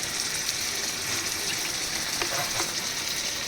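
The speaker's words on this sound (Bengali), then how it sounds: "এবার দিয়ে দেবো এর মধ্যে কিছুটা তেল।" Cooking oil going into a hot pan for a pointed gourd dish, a steady close sizzle and hiss with a brief liquid pour partway through.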